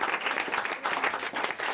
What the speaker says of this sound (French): OK, on peut l'applaudir.